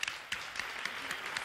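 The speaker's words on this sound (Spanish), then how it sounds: "lo que naturalmente merece un aplauso" Studio audience clapping on a Spanish television game show after contestants' winnings are announced, a brief, moderately loud patter of applause with a few sharper individual claps standing out.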